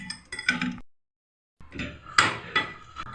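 A spoon clinks and scrapes against a metal bowl while ground chaat masala spices are stirred together with red chili powder and Kashmiri chili powder, giving several sharp taps close by, split by a brief pause.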